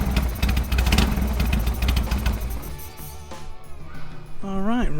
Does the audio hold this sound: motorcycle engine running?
yes